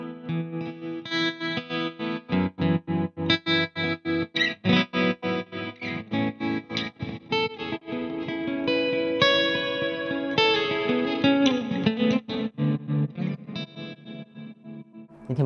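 Strummed and picked Gusta acoustic-electric guitar chords through an electric-guitar chorus effect, shimmering and wavering, played alone and fairly loud, with rhythmic strumming giving way to sustained ringing notes.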